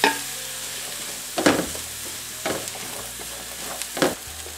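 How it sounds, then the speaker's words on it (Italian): Chopped vegetables with onion and a sprig of rosemary fry in oil in a pan, a steady close sizzle broken by a few louder stirring scrapes and clatters, no voices. "Verso in padella un cucchiaio d'olio. Aggiungo uno spicchio di cipolla, un rametto di rosmarino e aggiungo tutte le verdure che ho tagliato."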